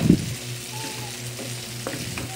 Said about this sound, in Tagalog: Ilagay na po natin ang ating sliced tomatoes po. Haluin lang po mabuti.